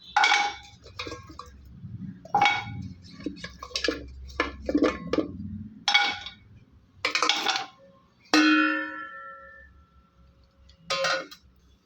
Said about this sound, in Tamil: இப்போ நம்ம அந்த க்ளீன் பண்ணி வச்ச ஆட்டுக்காலில் குக்கரில் சேர்த்துக்கலாம்